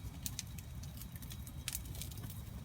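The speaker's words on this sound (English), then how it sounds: "It's still raining," Soft, irregular pattering of rain at a wet, windy woodland debris-shelter camp, faint, scattered drops over a low, steady rumble of wind.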